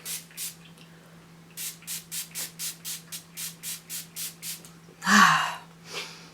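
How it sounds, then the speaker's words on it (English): A spray bottle misting in quick pumps, a couple of squirts then a rapid run of about a dozen, followed by a loud sharp breath and one more spritz. "let's spray and finish off this video"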